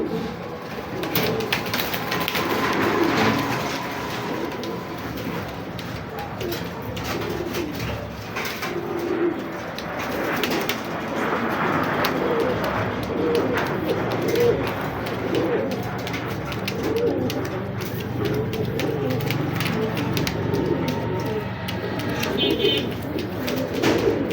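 Saddle pied pigeons coo in low, repeated throaty calls after being let loose, a steady flock murmur with wing flutters and occasional clatter nearby.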